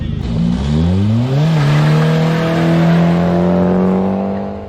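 Peugeot 406 2.0 turbo taxi engine accelerating hard through rising gears, a loud close roar climbing in pitch with a shift partway through, no talk.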